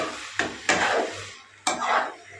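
Fried carrot halwa with khoya stirred in a pan just uncovered, a few scraping strokes of a spoon against the pan over a soft sizzle, close and clear.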